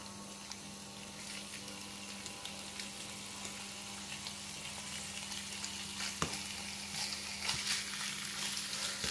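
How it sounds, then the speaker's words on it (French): John Dory fillets laid in a hot pan fry with a soft, steady sizzle, dotted with a few faint pops and crackles, quiet and without any speech. "On va mettre le Saint-Pierre dans la poêle."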